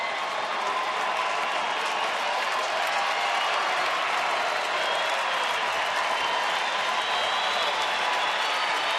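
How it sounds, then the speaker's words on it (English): A baseball stadium crowd cheers late in the ninth inning of a Pirates–Rangers game, giving a steady, dense roar of voices and clapping that holds at an even level throughout. "Crowd getting into it."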